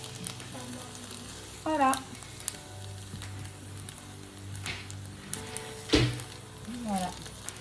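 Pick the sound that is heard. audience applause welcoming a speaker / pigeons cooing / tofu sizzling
tofu sizzling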